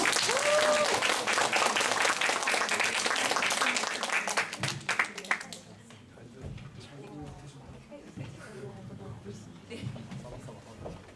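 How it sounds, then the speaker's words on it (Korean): An audience at a literary hall reading event applauds as the director is welcomed to the stage, loud dense clapping for about five seconds before fading into scattered claps and room noise. "여러분 박수로 맞이해 주세요"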